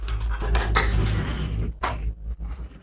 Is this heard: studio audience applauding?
no